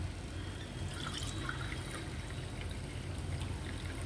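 Water poured into soaked rice for a meal maker biryani, a steady continuous pour running for several seconds at moderate volume with no talk over it.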